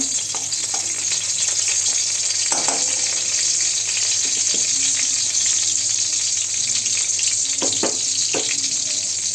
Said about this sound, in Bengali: এগুলো কিছুক্ষণ ভেজে নেব।